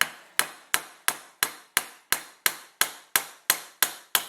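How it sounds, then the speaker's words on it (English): Twelve sharp, evenly spaced hammer blows on an AR-15 rifle part ring out one after another in a steady rhythm, each strike loud and close with a short decaying ring. "we'll just stick that in there and carefully hammer away"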